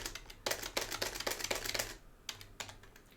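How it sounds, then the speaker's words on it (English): Bursts of rapid clicking keystrokes on a computer keyboard, loud and close, with short pauses between runs and no voices. "Another thing you could do is start typing out the fret numbers"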